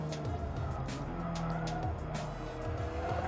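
A race car in the iRacing driving simulator drones at high revs, its engine pitch rising and dropping through gear changes, with faint tire noise and a few sharp hissy bursts.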